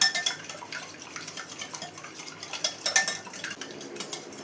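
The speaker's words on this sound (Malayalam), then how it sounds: "ഇനി ഇതെല്ലാം കൂടെ നന്നായി തന്നെ ഒന്ന് ബീറ്റ് ചെയ്തെടുക്കാം" Eggs seasoned with pepper and salt are beaten in a bowl, a steady close clatter of a utensil knocking and scraping against the sides in quick, uneven strokes.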